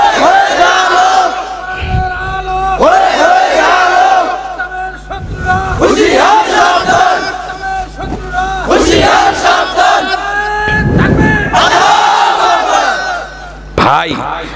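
A large crowd at a religious sermon gathering shouts a takbir in unison in response to a preacher, loud and near. Several powerful collective cries come in waves with brief gaps between them.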